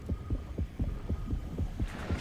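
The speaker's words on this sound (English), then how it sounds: "I hear that heartbeat." A heartbeat from the video game Depth thuds in a slow, steady rhythm of low doubled pulses over a droning hum, with no talk.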